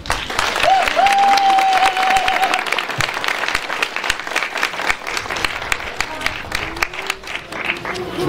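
Sustained applause from an audience at a kindergarten opening in Çerkezköy, loud and continuous at first and then thinning into scattered claps, with a brief whistle and voices mixed in.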